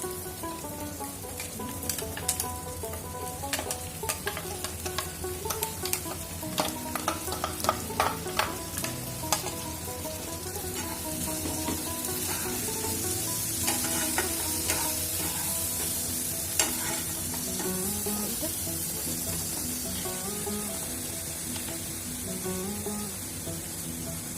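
Potatoes and onions fry in a pan as a chopped spice paste goes in, with loud crackling sizzle and repeated sharp spatula scrapes early on, then a steadier, fuller hiss.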